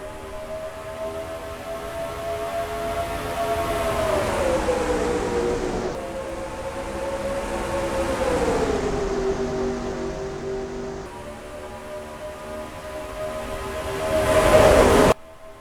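Stock cars racing at Fontana in the NASCAR Racing 2003 game: a loud, rising and falling engine whine as the cars pass in waves, each sweep climbing then dropping in pitch, building to a close roar near the end.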